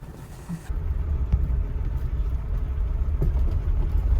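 A 1979 Mercedes 6.9 engine fires up after a short start and settles into a steady, close, low rumbling idle that runs on evenly.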